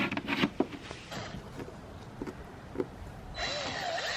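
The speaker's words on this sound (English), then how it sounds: "We're just drilling holes into the lid of these jugs" A power drill bores holes into plastic jug lids, giving a few short, close whirring bursts with clicks and handling knocks, followed by a steadier whine near the end.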